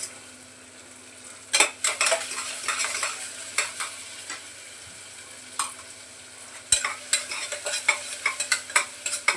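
Onion and tomato masala, cooked down until the oil separates, is stirred in a pan with a utensil. Close scraping and clinking strokes come in bursts over a faint steady background sizzle, with no talking.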